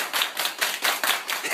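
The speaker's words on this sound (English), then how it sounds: "everybody clap your hands" Hands clap in a quick, steady rhythm of sharp, close, loud beats, about five per second, with no talking.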